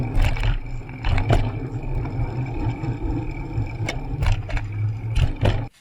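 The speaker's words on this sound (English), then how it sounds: "Have a listen to the audio that I got from the traffic" Street traffic captured through a DJI Osmo Pocket sealed in its waterproof case: a muffled, continuous low rumble of engines, with several brief sharper whooshes and scrapes as vehicles pass close by.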